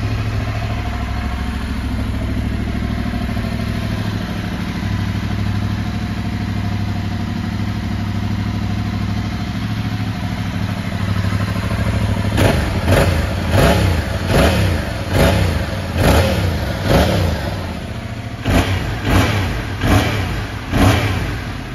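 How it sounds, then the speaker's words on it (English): A 2020 Yamaha Tracer 700 motorcycle engine idles smoothly and steadily up close, then gets several sharp revs, with the throttle blipped repeatedly toward the end. "A really nice smooth sounding engine on this bike."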